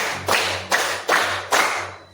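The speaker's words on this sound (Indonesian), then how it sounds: "Tepuk 1, tepuk 2, tepuk 3, tepuk 4, tepuk 5." Group clapping in a counted rhythmic pattern at a school coaching session, four sharp, evenly spaced bursts of many hands striking together, each ringing briefly before the next.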